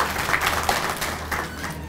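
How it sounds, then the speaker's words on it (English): Audience at a poetry event applauds a guest, a short burst of close, dense clapping that holds steady for two seconds. "Give her a big round of applause."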